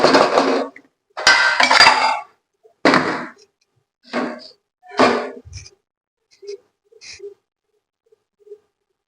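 Chopped ingredients are stirred together in a metal pot, heard as a series of close scraping and clinking strokes that come in irregular bursts and then trail off into a few faint taps.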